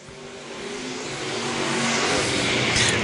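Stock car racers in a pure stock and super stock race come down the front stretch, engines building to a loud, close roar as the pack approaches.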